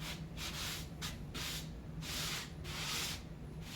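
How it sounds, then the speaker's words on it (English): Repeated bursts of a sanding tool or sanding block smoothing the edges of drywall spackle on a patched wall, strong broadband rasping strokes coming close and fairly loud, with short pauses between passes. "We're just smoothing out the edges a little bit."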